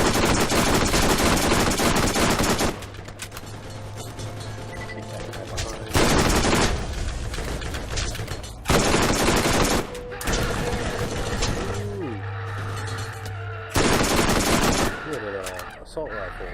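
Loud bursts of assault rifle gunfire from the Borderlands video game, coming in several sustained rapid volleys separated by short quieter gaps with game sounds, close and dominant.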